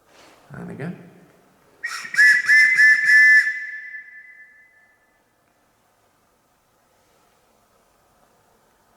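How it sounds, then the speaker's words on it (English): A police whistle is blown inside the old Shepton Mallet Prison as a rapid, warbling trill of several pulses with a sustained shrill tail. A voice comes just before, then the space falls nearly silent. "You got a police whistle."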